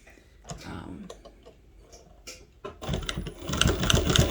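A MOSS chain stitch embroidery machine fills in an area, with scattered ticks and clicks at first, then a dense, rapid mechanical stitching rattle that grows loud and close.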